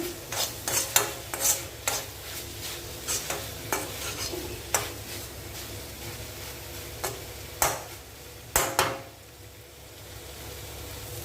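Butter beans sizzle gently in a pan of oil while a spoon scrapes and stirs in repeated bursts, with no voices.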